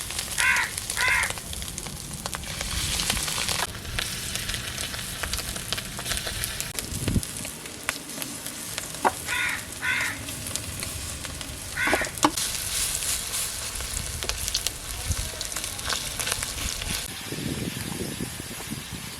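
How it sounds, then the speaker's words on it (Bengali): Fish roe fritters fry in hot oil with a continuous sizzling crackle at close range, while crows caw repeatedly in short bursts in the background. "মাছের ডিমের বড়াটাকে ভেজে নেব।"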